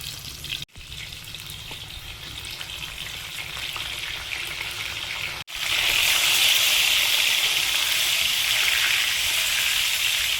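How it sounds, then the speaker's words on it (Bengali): Bhola fish fry in hot oil, a continuous close sizzle that jumps noticeably louder and brighter after a brief break partway through, with no voices over it. "এবার ভোলা মাছগুলো ভেজে নেব।"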